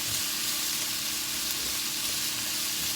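Mushrooms with ginger and garlic fry in a pan for a stir fry, giving a steady, close hiss and crackle of sizzling without talk.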